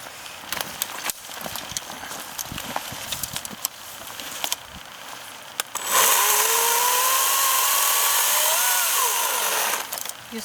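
An EGO 56-volt battery chainsaw with a 14-inch bar bites into wood partway through, a loud steady whine that holds for several seconds after scattered knocks and rustling.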